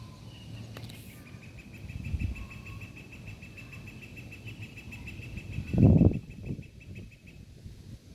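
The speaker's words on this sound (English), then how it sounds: "I want you to be able to hear these birds." Birds sing outdoors in a quiet, sustained high chirping that runs through most of the stretch, with a few soft low bumps and one louder rustling thud near the end.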